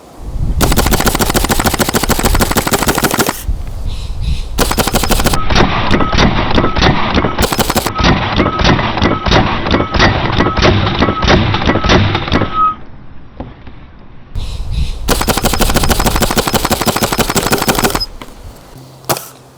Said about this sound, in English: what you can do is obviously spam a bunch of shots